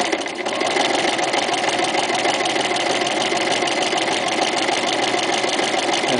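A Toyota FSG325 sewing machine with a walking foot sews a zigzag stitch, a rapid, steady mechanical chatter that runs loud and continuous throughout.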